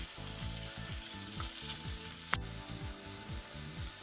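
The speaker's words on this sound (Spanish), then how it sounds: "rehogamos la cebolla en un fondo de mantequilla y aceite" Onion sautéing in a mix of butter and oil, heard as a steady, fairly quiet sizzle with a single sharp utensil knock in the middle and no speech.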